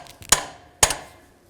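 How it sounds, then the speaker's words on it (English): Two sharp metallic taps, a hammer striking an adjustable wrench on a 2000-04 GMC Yukon radiator fan clutch, about half a second apart, each ringing briefly before fading. "I'm just going to use an adjustable wrench and just a hammer. Give it a couple good taps."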